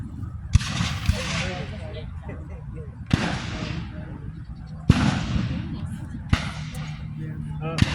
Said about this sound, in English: One row would shoot, the next row would shoot, and then the next row.